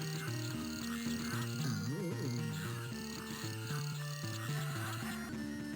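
Frogs from the Game Boy Advance game E.T. The Extra-Terrestrial, heard as chiptune croaks with a brief warbling pitch sweep over steady looping game music, moderately loud with no talk.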